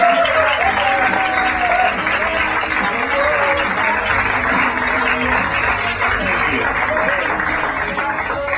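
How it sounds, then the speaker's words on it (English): Audience applause for stand-up comedian Louis C.K. as he takes the stage, a dense steady wash of clapping with crowd noise and a few voices mixed in, loud and sustained throughout. "Thank you for applauding."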